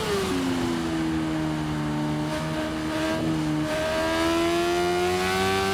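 A naked motorcycle's engine in the Ride 6 racing game revs hard and steadily, its pitch climbing and dipping through gear changes as it howls continuously and loudly with no talking.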